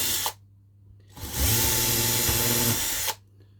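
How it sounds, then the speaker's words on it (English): A power drill bores through stacked wooden boards during a scratch-built diorama project: one loud, steady whine of about two seconds, close by, with quiet room tone before and after and no talking. "So I can drill that."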